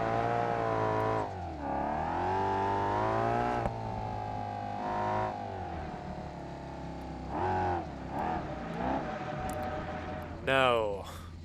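A car engine revs hard in BeamNG.Drive, its pitch rising and falling in sustained surges as the car drifts, loud and continuous with a sharp high-pitched whine near the end.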